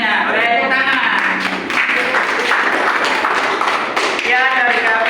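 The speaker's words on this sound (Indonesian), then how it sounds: "Boleh tepuk tangan." Dense clapping from a classroom audience at a teacher-training session, with a steady crackle of taps and thuds under voices that keep talking throughout.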